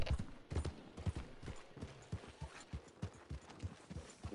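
Horse hooves clip-clop in a steady, even rhythm in the video game Red Dead Online. The hoofbeats are close and moderately quiet, with no talk over them.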